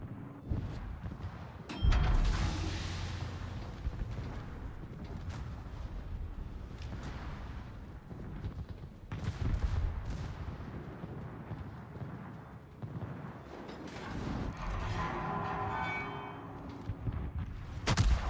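Naval guns firing in World of Warships, heavy booming salvos that rumble and roll across a long stretch, with several separate blasts spread over time and a crackling tail near the end.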